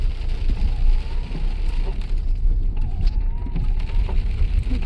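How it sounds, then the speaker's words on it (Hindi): Heavy rain with small hail pellets pounding down at night in a Himalayan setting, a dense continuous roar with scattered sharper taps, steady and close throughout. "और बारिश तो बहुत तेज़ हो गई है।"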